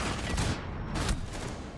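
Gunshots in Rainbow Six Siege: a couple of loud bursts of fire with a short gap between them, harsh and close, with no talking.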